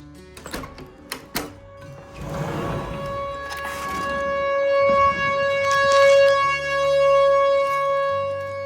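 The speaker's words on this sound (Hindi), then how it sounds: "टॉर्नेडो के सायरन बज रहे हैं।" After some brief clattering and rustle, a tornado warning siren swells in and holds a steady, sustained wail during a drill, moderately loud and slightly distant.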